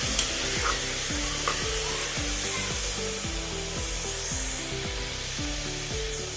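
Carrot halwa with ghee is stirred in a pan, a spoon scraping the bottom in a regular rhythm of repeated strokes over a soft, constant sizzle, close and fairly quiet.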